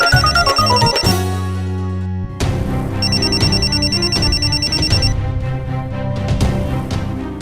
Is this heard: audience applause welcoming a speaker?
no